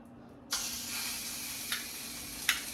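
Oxtail hits a hot pan and sears with a sudden, steady sizzle that starts after half a second and continues at close range, with occasional sharper pops and spits and no talk.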